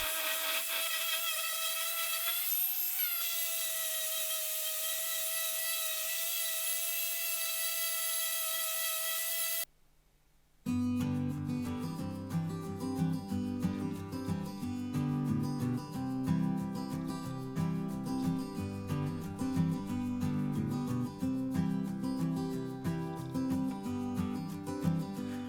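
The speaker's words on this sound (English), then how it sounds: "It's time to sand everything using the orbital sander with 80 and 120 grit." An orbital sander works over wood with 80 and 120 grit paper, starting with a steady motor whine and then giving way after a brief gap to busier, rasping, irregular scrubbing at a close, moderate level.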